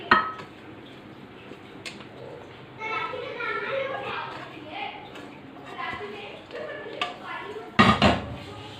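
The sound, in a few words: halwa transferred into a ghee-greased tray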